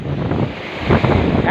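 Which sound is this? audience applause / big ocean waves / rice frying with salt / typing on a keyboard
big ocean waves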